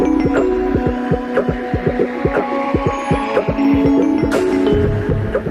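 A copy shaper machine, guided by a roller tracing a model, carves a wooden wind-generator propeller, giving a steady machine hum broken by a rapid series of rhythmic cutting thumps, loud and close with no talk.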